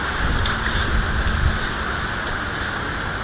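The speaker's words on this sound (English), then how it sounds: "It's still raining" Heavy tropical rain pours down steadily in Borneo, a dense, loud, continuous hiss of drops close by with no breaks.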